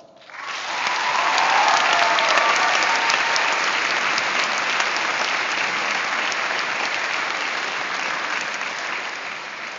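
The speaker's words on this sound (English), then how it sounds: "Can I get a round of applause?" A graduation ceremony audience breaks into applause, a dense wash of clapping that swells quickly and holds steady and loud for several seconds.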